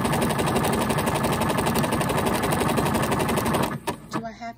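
A sewing machine stitches a straight line on a jacket, a dense, steady rapid whirring buzz close up that runs continuously, then stops near the end with a few faint clicks, under a voice talking.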